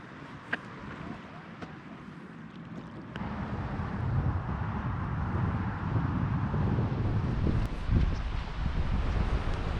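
Wind gusting by a harbour on a coastal walk, a steady broadband roar that strengthens after a few seconds and stays loud, buffeting the microphone with no speech.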